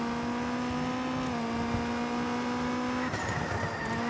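A rally car in the video game Rally Racer Dirt on a harbour stage holds a steady, loud engine drone through a handbrake turn, with a brief pitch shift and tyre scrub near the end.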